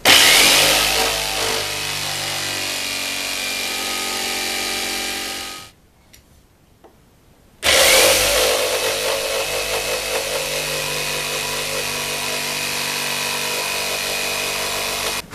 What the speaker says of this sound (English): Now I'll just take the only cutting tool we've used so far, the jigsaw, and cut out these two pieces.